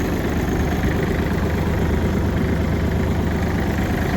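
Kubota GT19 Japanese mini tractor with its engine running: a steady, close, loud diesel drone with an even low rumble and no change in pace, alone without talk.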